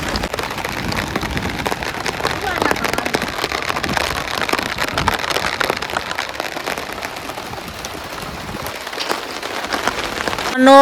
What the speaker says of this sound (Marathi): मांदळा पाऊस आलाय